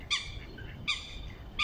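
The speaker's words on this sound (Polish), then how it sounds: "Żeby się tutaj z wronką nagadać." A crow calls outdoors in spring, giving two loud, harsh caws about a second apart, close by, with the start of a third at the end.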